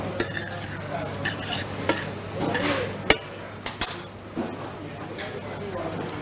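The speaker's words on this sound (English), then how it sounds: "Just going to toss the pasta, and then just put it back on the stove" Creamy asparagus tagliatelle tossed in a pan on the stove, with close scraping, metallic clinks and a couple of sharp knocks over a light sizzle, while someone talks.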